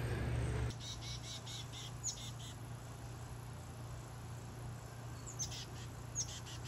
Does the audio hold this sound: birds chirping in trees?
yes